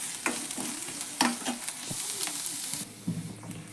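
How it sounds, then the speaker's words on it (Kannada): Bitter gourd frying in hot oil in a pan, giving a continuous bright sizzle broken by several stirring scrapes and clinks, close and fairly loud, with no talking. "ಇದನ್ನು ಹಾಕೊಂಡ್ರೆ ಇದು ಫ್ರೈ ಆಗಲಿ ಎಣ್ಣೆ ಒಳಗೆ."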